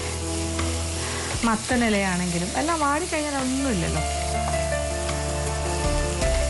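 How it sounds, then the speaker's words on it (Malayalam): Drumstick leaves hit a hot pan and sizzle with a steady frying hiss throughout, while a person talks over it. "ചൂടായി കിടക്കുകയാണ് നമ്മളുടെ ചട്ടി. ഇനി ഇതിലേക്ക് മുരിങ്ങയില."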